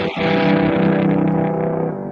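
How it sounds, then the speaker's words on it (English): A heavily distorted electric guitar chord rings out loud and gritty, sustaining before it fades slightly. "we don't need the distortion as much"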